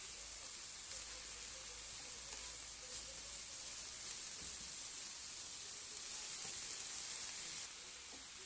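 Zucchini and grated carrots with coriander cooking under a lid in a covered pan, giving a steady, soft sizzle and hiss that holds evenly throughout with no talking.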